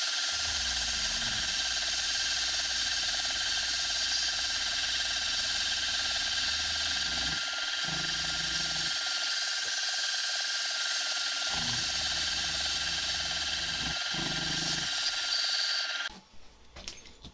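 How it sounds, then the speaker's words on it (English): A milling machine runs a 10mm carbide ball end mill through a notch for a lathe rear toolpost toolholder, giving a steady loud whine with uneven low cutting chatter until it winds down near the end. "So I've got a 10mm ball end mill. It's a carbide one, I believe."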